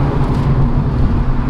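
A MINI GP3 drives along with its engine droning loud and close, a steady buzzing road hum that holds without a break.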